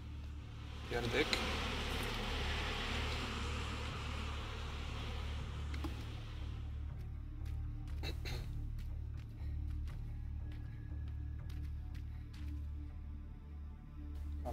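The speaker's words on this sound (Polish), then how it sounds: "Musimy mu trochę pszczół, żeby się lepiej poczuł." A swarm of bees buzzes loudly in the video game Inner Chains for several seconds, then fades, leaving low droning and scattered sharp clicks as someone talks.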